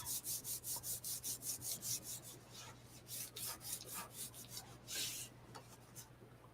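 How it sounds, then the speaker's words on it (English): Paper card rubbed firmly across its back to make it adhere, giving a soft, close rhythmic swish of repeated strokes, quite quiet, with a brief pause midway and no talking. "Let's give it a good back rub."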